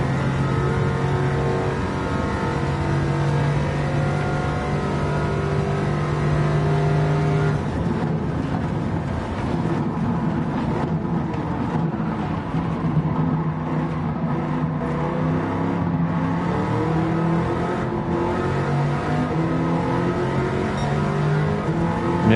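Race car engine in Gran Turismo 7 accelerating, a steady loud whining roar that rises and shifts in pitch through gear changes over about twenty seconds, with no talking.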